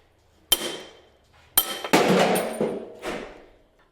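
A hammer strikes metal while knocking out the steering head bearing on a YZ125 dirt bike, four sharp ringing blows spaced unevenly, close and loud, with metallic decay after each and no talking.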